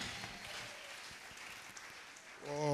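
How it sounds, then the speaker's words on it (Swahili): A church congregation at a prayer service applauding, a dense crowd clapping at moderate level, with a voice rising at the end. "Vous pouvez donner gloire à Dieu par des acclamations"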